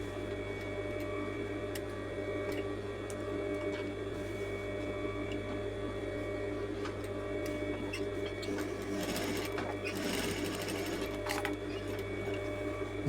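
Sewing machine stitching shirt fabric onto a coat collar, a steady continuous motor drone with mechanical hum and faint ticking running throughout, close and constant.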